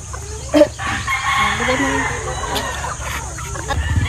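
A Boston Black gamefowl rooster on a game farm crows in a drawn-out call with clucks around it, close and clear against a low background hum.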